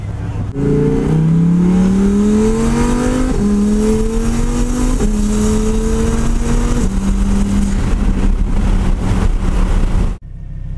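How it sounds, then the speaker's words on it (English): Tom's Underground Racing twin-turbo Lamborghini Huracan with 1250 horsepower, accelerating hard close up: a loud, steady engine roar that climbs in pitch through several distinct gear shifts before cutting off abruptly. "now I'm going out in Tom's Underground Racing 1250 horsepower twin turbo Huracan"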